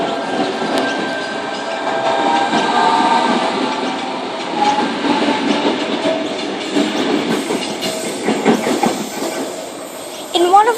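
A Sydney Trains T4 line train passes through Tempe station with a steady loud rumble, wheel clatter and brief squeals along the platform, and a voice speaks faintly over it.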